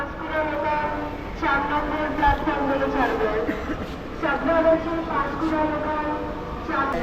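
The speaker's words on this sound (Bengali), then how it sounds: "আমাদের তিন নম্বর প্ল্যাটফর্মে ট্রেন এসে দাঁড়িয়েছে" A train stands at a platform in Santragachi Junction, a large railway station, with a steady rumble and station din throughout while people talk close by.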